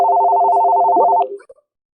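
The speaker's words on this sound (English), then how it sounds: "Phone's ringing." A telephone rings loud and close in one continuous electronic trill lasting about a second, then cuts off, leaving quiet.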